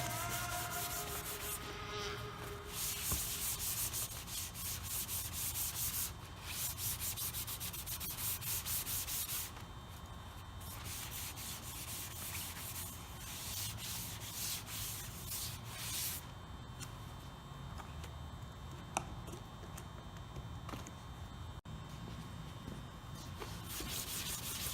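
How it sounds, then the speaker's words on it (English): A cloth rubs Briwax into antique pine in circular motions, a continuous close-up abrasive swishing that pulses with each stroke and carries on without pause. "Rub it in with circular motions, finish up along the grain,"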